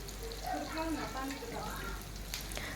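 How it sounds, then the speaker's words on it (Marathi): Onions sautéing in a pan, a steady soft sizzle and crackle running continuously under a faint voice, with a few sharper bright pops near the end. "मिक्स करत आपल्याला छान कांद्याचा कलर चेंज होईपर्यंत परतून घेऊयात"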